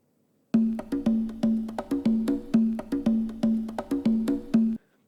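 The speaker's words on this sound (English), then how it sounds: "Focusing on the conga, just the conga for a second over here." A looping conga drum sample with repeated punchy, resonant tones in a steady syncopated rhythm, played close and alone, ending abruptly.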